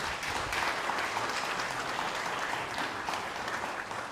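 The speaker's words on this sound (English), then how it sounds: "So a round of applause for Dame Te Wila Percival." An audience at a research symposium applauds Dame Te Wila Percival, a dense, even wash of many hands clapping at moderate level throughout, with no speech.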